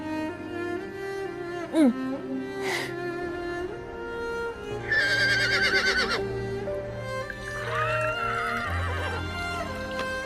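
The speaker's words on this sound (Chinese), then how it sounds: "这一大早的马叫得这么厉害。" Horses neigh and whinny repeatedly in the early morning, with several loud, close, rising and falling calls separated by short gaps.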